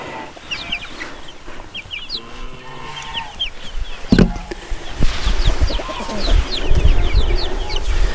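Chickens in a backyard coop cluck and chatter continuously at moderate loudness, with scattered higher calls and a sharp knock partway through.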